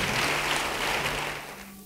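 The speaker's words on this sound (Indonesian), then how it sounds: "Yang kepingin, beri tepuk tangan bagi dia." A crowd applauding, dense clapping that holds steady and then begins to fade toward the end.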